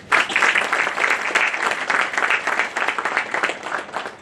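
Audience applause for an honored guest, Padma Shri Dr. Jagdish Trivedi, at a Gujarati speaking event: dense, sustained clapping from a sizable crowd, steady and loud throughout with no voices over it.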